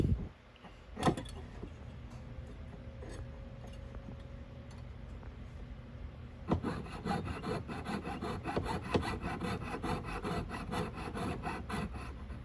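A small saw cuts the sprue off a tiny sand-cast heart pendant, quiet rapid rasping strokes close by, pausing after a couple of early scrapes before settling into steady sawing.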